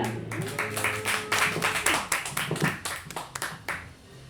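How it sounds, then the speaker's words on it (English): A small crowd at a talk claps for a few seconds, scattered and uneven, with a voice briefly audible underneath before the clapping fades. "Let's give a round of applause to Ernesto Ayala."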